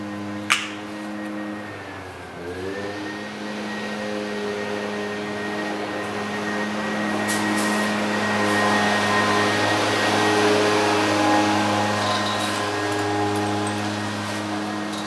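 Lawn equipment run by a yard crew drones steadily outside for the whole stretch, a continuous motor hum with a faint click near the start, fairly loud and with no talk over it.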